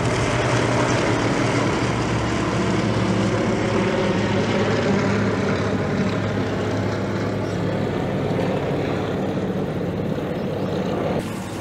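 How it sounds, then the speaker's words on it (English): Propeller airplanes drone overhead in a steady, loud, continuous hum that holds for the whole stretch over an outdoor container garden, easing slightly near the end. "And here come the planes again."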